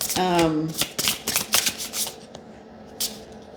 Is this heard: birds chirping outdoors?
no